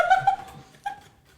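A person imitates a dog bark with a few short, harmonic yelps, close and fairly loud, tapering into quieter attempts.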